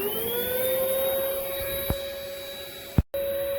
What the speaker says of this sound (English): Now I got the vacuum on,